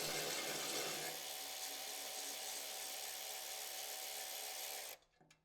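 A long bolt being run out of a steel mounting plate on a Fuso overland truck build with a ratchet, heard as a steady, close, high-pitched whirring drive that runs for about five seconds and then stops abruptly.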